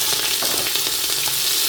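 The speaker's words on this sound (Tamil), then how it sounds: "எல்லாம் போட்டு வதங்குறோங்கோ." Onions, curry leaves and fennel seeds frying in olive oil for mutton curry, a dense loud hiss of sizzling oil with faint crackles, close and continuous, no talk.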